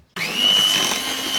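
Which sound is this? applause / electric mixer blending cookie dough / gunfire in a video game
electric mixer blending cookie dough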